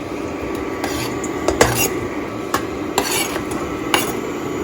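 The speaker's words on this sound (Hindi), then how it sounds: "स्ट्रॉबेरीज हमने काट ली है अपनी। अब इन्हें आप डालें एक पॉट में।" Chopped strawberries drop into a pot with soft scraping and a few light clinks of utensil against metal, quiet and close with no talking.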